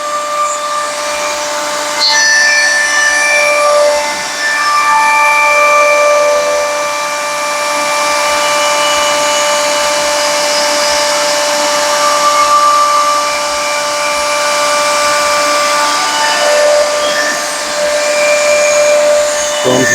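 A router trims the edge of reclaimed Ocean Beach pier wood, holding a loud, constant high-pitched whine with faint cutting texture throughout and a brief dip near the end.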